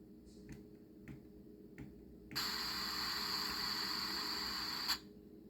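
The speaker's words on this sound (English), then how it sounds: "You get that air release sound." A Soundtraxx Soundcar decoder on a model railroad car gives an air release: a steady hiss that starts abruptly, holds for about two and a half seconds and then cuts off, after a few faint clicks.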